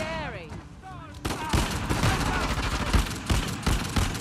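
Gunfire in Uncharted The Lost Legacy, a dense burst of rapid shots loud and close, preceded by whistling tones and accompanied by talking.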